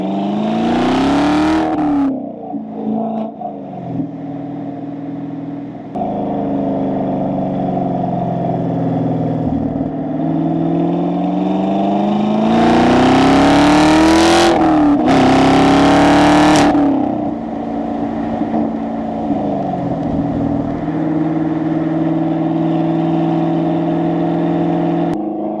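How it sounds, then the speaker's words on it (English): A Chevrolet Camaro SS 1LE sports car's exhaust, with active exhaust valving, revs hard several times, rising to loud peaks and dropping back to a steady rumbling idle between bursts. "just so you could hear how much the exhaust valving does"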